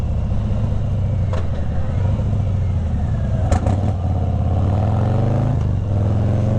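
A Harley-Davidson Heritage Softail motorcycle engine drones steadily and loudly while riding onto a highway, a low continuous rumble with slight rises in pitch as it accelerates, close to the microphone with no talk.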